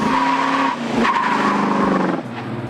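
A 1969 Oldsmobile 442 W30 with dual exhaust driving past, a loud engine note with tire squeal rising and falling as the car goes by, with no talk over it.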